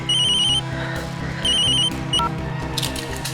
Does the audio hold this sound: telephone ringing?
yes